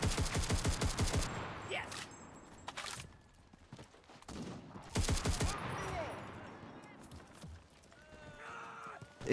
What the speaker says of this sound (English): It is a grease gun.